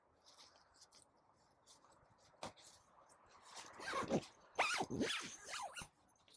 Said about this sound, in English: zip it up, not have to worry about it at all